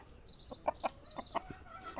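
Burmese fighting rooster on a Thai gamecock farm, giving a run of short clucks and calls spaced about a beat apart, close and fairly clear with no talk.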